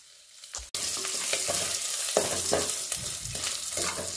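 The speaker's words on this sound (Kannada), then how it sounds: "ಕರಿಬೇವಿನ ಸೊಪ್ಪನ್ನು ಹಾಕ್ಕೊಂಡು ನೀಟಾಗಿ ಫ್ರೈ" Dried chilies, garlic, cumin and curry leaves hit hot oil in a pan with a sudden burst, then sizzle loudly and steadily under repeated stirring scrapes.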